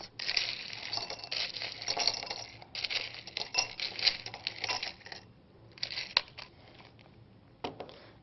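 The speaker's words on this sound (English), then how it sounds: "Start by filling a 400 milliliter beaker, approximately 1/3 full, with ice." Ice cubes tumbling and clinking into a 400 ml glass laboratory beaker, a dense run of rattling, crunching clatter in bursts with short pauses, close and fairly loud, no talk.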